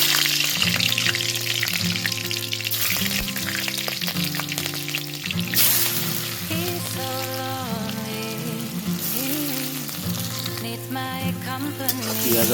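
Oil heats in a pan over a wood-fired clay stove, giving a dense, steady sizzle that crackles like rain, loud and close, with a continuous tonal hum running beneath it.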